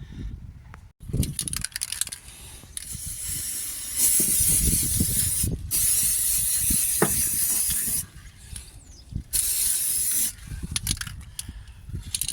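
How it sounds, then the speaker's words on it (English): Aerosol spray paint hisses onto a welded trailer where the galvanising was ground away, in several bursts of a few seconds each with clicks and handling noises between them, close by. "I might spray a bit of paint or something on it just to stop it rusting away"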